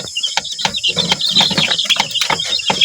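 Fifteen-day-old farm chicks peep in a busy, high-pitched chorus of rapid overlapping chirps, close by and fairly loud, with no voices.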